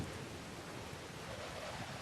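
Heavy night rain with thunder rolling through a thunderstorm, a steady dense wash of rainfall and low rumble filling the short stretch at a constant, fairly quiet level.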